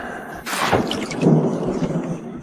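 A thunderclap crashes in over heavy rain in an animated drama set in a beast-tribe world where volcanic ash and acid gases fall with a rainstorm, the loud close rumble rolling on under the steady downpour.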